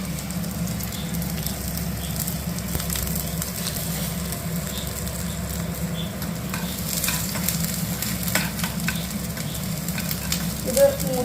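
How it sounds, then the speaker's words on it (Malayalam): Chopped onions fry in a pan, giving a steady, close sizzle that runs unbroken for about eleven seconds, with a few faint clinks and no talking. "ഉള്ളി അരിഞ്ഞ് വെച്ചിട്ടുണ്ടായിരുന്നു, ഉള്ളി അരി കാച്ചണം."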